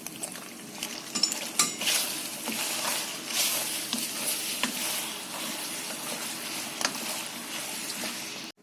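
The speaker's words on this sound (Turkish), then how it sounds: "Şimdi de sosumuzu içerisine ilave ediyoruz artık karıştırıyoruz." Utensils scrape and clatter against a pot as sauce is stirred into pasta, with faint wet squelching and a soft sizzle throughout, fairly close and steady.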